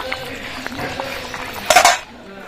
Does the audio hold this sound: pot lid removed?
yes